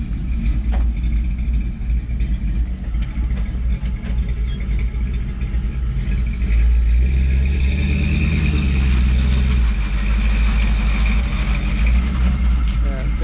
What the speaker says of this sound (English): you can kind of hear that tire skipping there